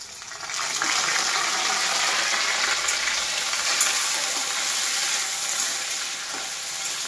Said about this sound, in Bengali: এবার আমি মাছের তেলটা দেবো।